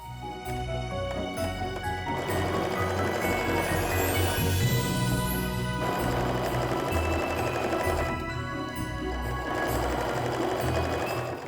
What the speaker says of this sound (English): time to flip it around and sew the other side